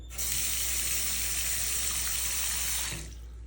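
Water gushes steadily down an unclogged bathroom sink drain as the tap runs, a loud continuous hiss and rush for about three seconds before easing off, with no talking.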